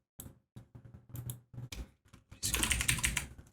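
Fingers typing on a computer keyboard close up: scattered soft key taps give way to a quick, denser flurry of clicks toward the end.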